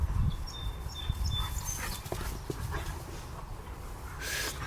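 Dogs moving around a yard, with soft panting, snuffling and light scuffling close by, a few faint whimper-like tones, and background rustle throughout.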